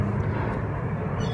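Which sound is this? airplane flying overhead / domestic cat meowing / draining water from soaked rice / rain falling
airplane flying overhead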